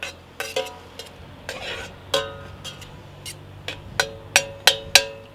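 Plums being stirred in a pan of caramelizing sauce for Thai plum sauce, with a spoon knocking and scraping against the pan in irregular sharp clinks that grow more frequent toward the end, over a faint sizzle.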